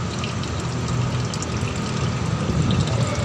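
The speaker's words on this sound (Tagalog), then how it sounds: "Tutuloy-tuloy na ang agos niyan." Water flowing continuously and being sucked into a drain, a steady rushing gurgle close by.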